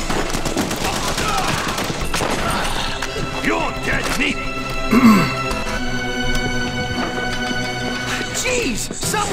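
Gunfire crackles through a firefight at the Gnucci Estate in The Punisher game, dense bursts and repeated shots running steadily under shouting voices, with a sharper hit midway.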